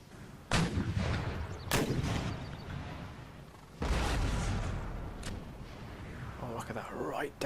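Cannon fire from artillery support in Empire Total War, a few heavy booming shots spaced several seconds apart over a low rumbling battlefield din, fairly close and loud.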